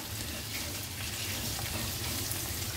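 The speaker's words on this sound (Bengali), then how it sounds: "পেঁয়াজটা হালকা ভাজা হয়ে এসছে, এর মধ্যে এখন আমি অ্যাড করে দেব গ্রেট করে রাখা আদা" Lightly browned onion with grated ginger frying in oil for a Kerala chicken kondattam, a steady, even sizzle that continues without voices.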